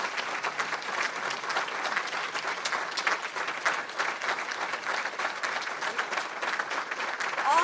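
An audience at a club luncheon claps for veterans in sustained, dense applause that holds steady throughout, filling the room evenly.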